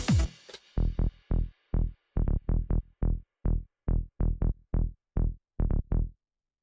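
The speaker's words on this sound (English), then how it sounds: "saw wave with a low pass filter taking out the high end and a bit of drive on the filter." Sub bass synth built from a saw wave through a low-pass filter with drive, playing a rhythmic pattern of around sixteen short, deep pulsing notes after a brief sweeping intro, dry and isolated.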